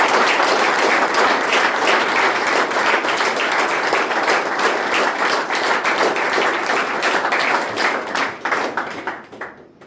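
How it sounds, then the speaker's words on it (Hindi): At a recovery gathering for people overcoming addiction, an audience claps loudly together, a thick sustained burst of many hands filling the room before tapering off at the end. "पहले तो एक बार जोरदार तालियां।"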